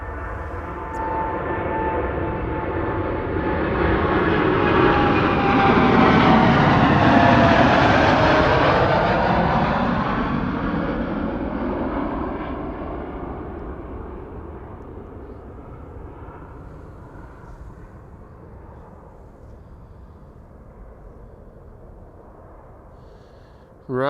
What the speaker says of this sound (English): Qatar A350 coming this way